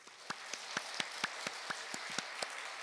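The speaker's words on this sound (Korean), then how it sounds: "그 모든 축복의 통로를 사용하신 하나님께 영광의 박수를 올려드리겠습니다" A church congregation claps in praise at the close of a Korean lay seminar sermon: soft, distant crowd applause with sharper individual claps standing out in an uneven rhythm, quite faint overall.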